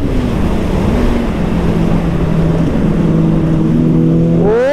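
Sport motorcycles, a Kawasaki ZX10R and KTM RC 390, racing on the street: a loud, steady engine drone under heavy wind rush, with a rising rev whine at the end and no talk.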